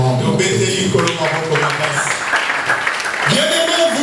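A church congregation applauds in a loud, steady patter, mixed with voices and cheering from the crowd.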